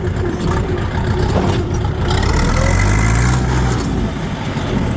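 Heavy two-tonne tractor with a 40 hp engine and unsynchronized gearbox accelerating in second gear, a loud, close, rumbling engine drone that swells for a couple of seconds and then eases off.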